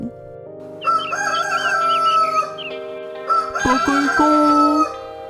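A rooster crows twice, long drawn-out calls with a brief pause between them, loud and close, with some clucking underneath.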